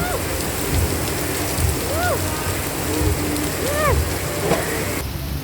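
Steady rain pouring down in Montego Bay, a constant hiss close by, with faint chirping or squeaky sounds scattered through it and no talking.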